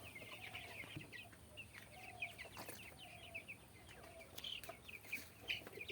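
Broiler chickens inside a small poultry farm shed make repeated soft clucks and short calls, faint and somewhat distant over a low steady background hum.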